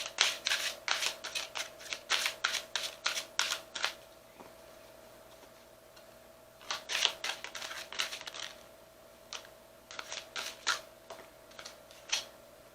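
Numerology cards are shuffled nearby in quick bursts of crisp flicks and snaps, pausing for a few seconds of quiet partway through before the shuffling starts again.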